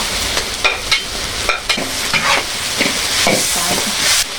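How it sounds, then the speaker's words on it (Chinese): Ginger, garlic and scallion stir-fried in a hot wok, with a loud steady sizzle broken by repeated scraping strokes of the spatula, close up. "加点姜蒜、大葱一起炒"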